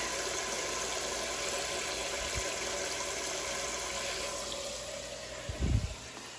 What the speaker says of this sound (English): Fill up the bucket. You can either use the kitchen sink or the spigot outside.